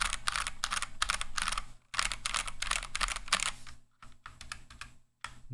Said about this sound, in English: tactile switches tend to have a lot of leaf ping,